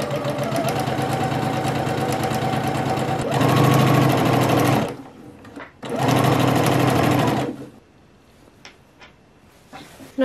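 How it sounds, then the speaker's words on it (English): A sewing machine top-stitches a hem at the edge of a fold in two fast, steady stitching bursts with a short pause between, then stops, leaving quiet handling sounds. "bring it onto the sewing machine and we're going to top stitch right at the edge of the fold"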